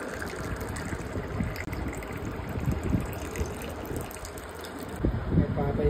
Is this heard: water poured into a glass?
yes